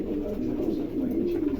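A pet pigeon for sale, a male, gives a soft, low continuous coo lasting under two seconds, close by and fairly quiet.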